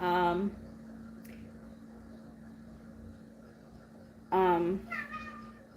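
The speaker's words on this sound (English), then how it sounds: "Meow." A cat gives two drawn-out meows, one at the start and another near the end, with a quiet steady hum filling the gap between them.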